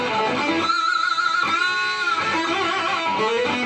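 A distorted electric guitar plays a short pentatonic lick with pinch harmonics, sustained squealing notes bending and sliding across a few seconds, loud and alone.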